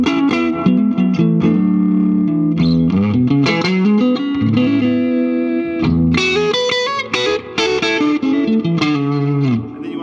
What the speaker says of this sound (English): when I play a Strat, you know, you want to hear that real bell-like front pickup